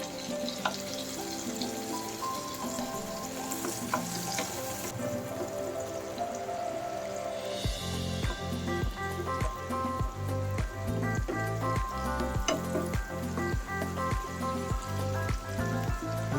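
One tomato being crushed into a pan of sizzling Alfredo tomato sauce for shrimp pasta, with a steady frying hiss and rhythmic soft squashing and stirring knocks growing louder partway through.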